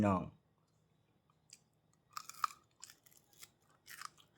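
Someone eats beef with sticky rice: close, quiet crunching and wet chewing in irregular bursts after a brief voice at the start, with faint clicks of biting between.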